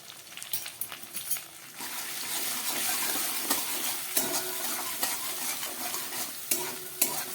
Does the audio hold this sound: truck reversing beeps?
no